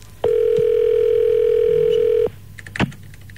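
A single loud, steady telephone tone sounds for about two seconds on a phone line during a radio prank call, then cuts off, followed by a couple of faint clicks.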